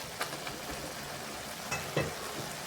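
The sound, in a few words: broth reducing over high heat with green onion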